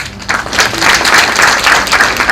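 Brief burst of clapping from a gathered group at a farewell drinks party, rising quickly and holding steady for about two seconds, close and fairly loud.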